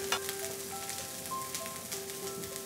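Boiled green chickpeas with chilies and ginger sauté over a medium flame, giving a faint, even, steady sizzle with light crackles and a thin tonal hum in the background.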